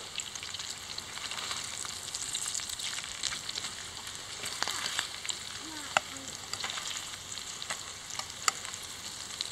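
Food for chop suey simmering and frying in a pan, a faint continuous crackle and hiss with occasional small pops and light clicks.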